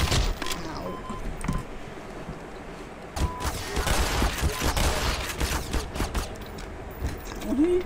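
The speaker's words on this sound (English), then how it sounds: "I know you're shooting me, just can't see from where." Enemy gunfire in Black Mesa: scattered cracking shots and short bursts, some distant and some close, spread irregularly over steady game ambience with mechanical clatter.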